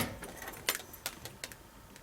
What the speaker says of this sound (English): I'm going to turn on the ignition.